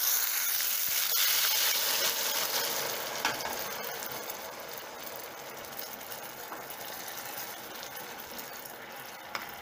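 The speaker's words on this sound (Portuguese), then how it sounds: "Agora eu vou colocar o suco de laranja." Orange juice poured into sugar just turning golden in a hot pan, giving a broad steady sizzle and bubbling hiss that is loudest at first and slowly eases, with no talking.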